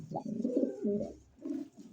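A large, healthy pigeon coos close by in a soft low throaty call, with one longer rolling coo followed by a shorter one and no talking.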